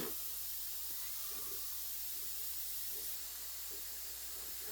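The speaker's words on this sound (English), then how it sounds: "We got our airbrush here, and since I tore this down and everything, I'm just going to check my pressure and everything." An airbrush blowing air during a pressure check on a model-building bench, a steady soft hiss running evenly throughout.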